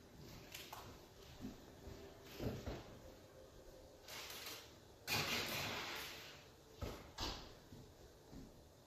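Oven door thudding shut in a home kitchen as a pumpkin roll goes onto the middle rack to bake, among several soft knocks and clatters of handling, fairly quiet.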